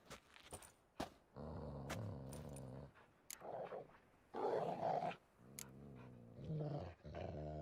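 Dogs in The Witcher 3 growl and snarl in rough bursts with short gaps, fairly close and moderately loud, with some jangling and clatter mixed in.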